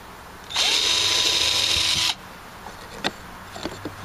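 A power drill runs in one steady burst of about a second and a half while pre-drilling wood for nails on a nightstand build, close and loud, followed by a few small knocks and taps.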